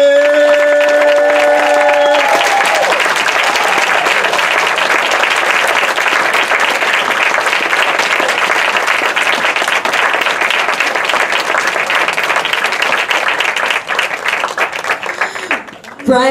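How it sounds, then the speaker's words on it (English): A film expo crowd on Long Island breaks into sustained, loud applause for actress Ilene Kristen, with dense clapping and some cheering. A voice speaks briefly over the opening seconds before the ovation carries on alone and fades at the end. "Please put your hands together and use your whole hand and applaud until she makes her way all the way to the stage."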